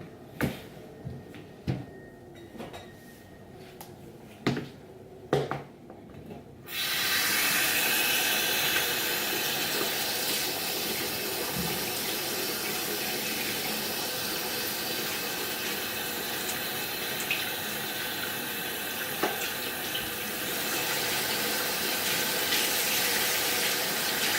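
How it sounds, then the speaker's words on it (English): A bathroom tap runs steadily and loudly while someone brushes their teeth and washes their face, following several seconds of sparse knocks and clatter. "So I'm gonna brush my teeth and wash my face like a normal person."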